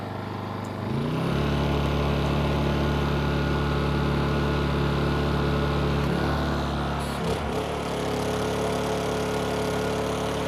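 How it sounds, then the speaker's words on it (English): A portable generator engine with eco throttle off runs loud and steady at high revs, a continuous droning hum that shifts briefly in pitch a couple of times as the load changes. "turn the eco throttle off, let the engine rev up in the generator"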